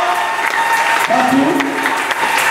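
Congregation at a church service applauding and cheering to acclaim the risen Christ, a steady, dense wash of clapping from a crowd throughout, with voices mixed in.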